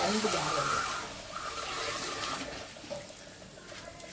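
Water is poured from a small jar into a pot of curry, a soft running splash under quiet speech that tapers off, ending in a faint knock.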